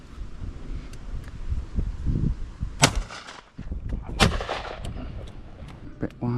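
Shotgun blasts ring out while shooting pigeons over decoys in an open field, two or three loud, sharp shots spaced a second or so apart, with wind noise and people talking in between.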